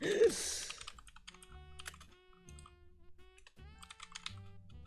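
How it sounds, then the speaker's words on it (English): Fingers type on a computer keyboard in quick irregular bursts of clicks and taps, close and fairly quiet, with short pauses between runs of keystrokes. "Oh, okay, you're typing them out."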